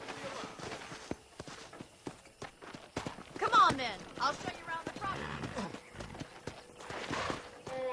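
Horse hooves clip-clop at a walking pace in Red Dead Redemption, a steady rhythm of hoofbeats under someone speaking, with a brief whinny partway through.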